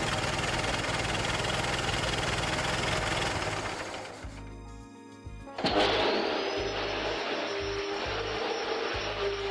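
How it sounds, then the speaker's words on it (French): A giant vacuum machine sucking up pollution roars with a loud, dense whoosh that fades for a moment, then surges back with a high whine on top, steady and close. "Une fois l'aspirateur fini, ils aspirèrent la pollution"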